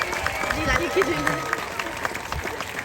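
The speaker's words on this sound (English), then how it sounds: "A big round of applause for Nico" An audience claps during a show, a steady, moderately loud patter of applause while a voice talks over it.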